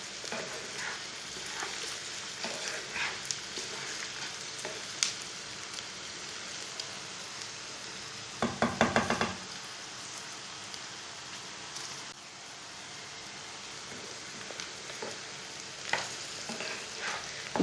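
Spices frying with okra in a pan, a quiet, continuous sizzle broken by a short burst of stirring clatter midway and a few faint scrapes.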